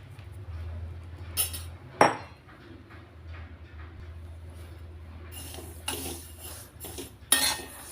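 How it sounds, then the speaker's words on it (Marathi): Sesame seeds are stirred in a hot kadhai, a spoon scraping and clinking against the metal with a few sharp knocks and a gritty rustle, close and moderately loud with no talking. "मंद आचेवरती हे तीळ आपण सतत हलवत राहायचे, म्हणजे ते सर्व बाजूने व्यवस्थित भाजले जातात."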